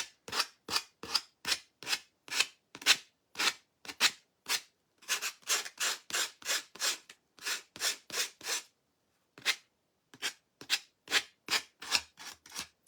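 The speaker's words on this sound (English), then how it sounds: "we can take the big sandpaper and go, or the big block, and go over the edges of this one" A sanding block with sandpaper rubs back and forth along the edges of a wooden cutout in quick, regular rasping strokes, close and alone, with one short pause midway.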